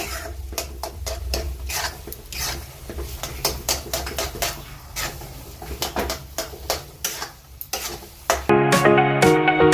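Gram flour sheera cooking in ghee, stirred steadily in a pan with repeated close scraping strokes over a soft sizzle, with music rising in the final second.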